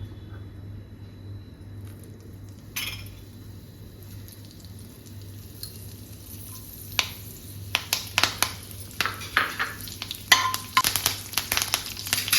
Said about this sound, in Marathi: तेल कढलं, जरा तापलं तेल, आवाज आला तेलाचा की आपण त्याच्यामध्ये मिरची आणि कढीपत्ता टाकायचा आहे